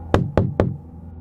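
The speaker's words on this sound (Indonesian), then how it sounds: "ada suara ketukan balik dari dalam tembok" Three sharp knocks on a wall, evenly spaced and close, each ringing briefly before fading into quiet.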